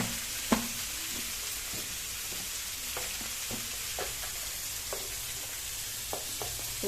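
Boiled soybean chunks fry for a curry in a pan with a steady close sizzle, punctuated by sharp spatula scrapes and clicks as they are stirred.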